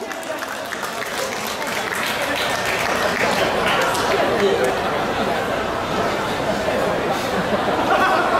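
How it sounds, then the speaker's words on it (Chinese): Audience at a company year-end banquet breaks into applause for the company president taking the stage, a dense, steady wall of clapping mixed with crowd chatter, loud and close. "掌声鼓励。"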